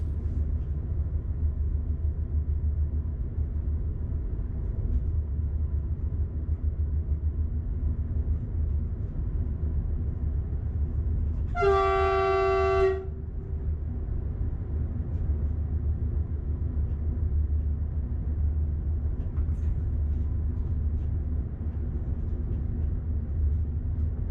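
A single train horn warning blast of about a second sounds over a steady low rumble of passing rail traffic, fairly loud and close, heard from the driver's cab.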